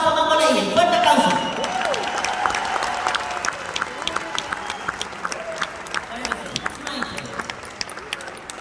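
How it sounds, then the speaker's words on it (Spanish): Applause and cheering from a crowd at a live mambo performance, starting with a loud burst and then thinning into scattered claps and whoops, with voices and babble underneath. "Fuerte aplauso."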